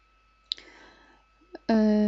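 Computer mouse clicks sound as two sharp, close ticks about a second apart in a quiet room, followed by a voice that begins speaking.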